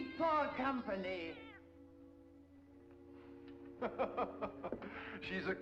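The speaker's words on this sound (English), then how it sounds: "She's a cat." A cat meowing in a horror film, with a long wavering meow at the start, a quieter gap, then a run of shorter, sharper meows building toward the end, close and clear.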